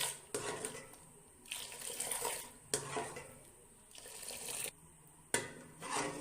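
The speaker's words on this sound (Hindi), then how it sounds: "अब इसे मज़ीद 3 से 4 मिनट 3-4 दफ़ा इसे फेंटेंगे।" Kashmiri pink tea being whisked and aerated, poured and beaten repeatedly in several sharp splashing bursts of liquid, close and fairly loud, with no talking.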